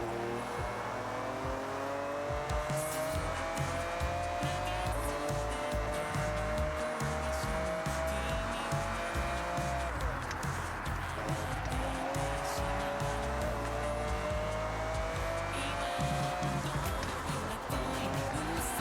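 A race car with race transmission roars through Forza Horizon 5, its engine note rising and falling through gear changes over nearly twenty seconds, with tire squeal mixed in and a steady loud drone throughout.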